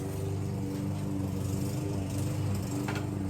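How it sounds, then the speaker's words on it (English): A neighbor's lawn mower drones steadily nearby in a residential yard, a continuous engine hum with no talk over it. "the neighbor's mowing even closer to us now"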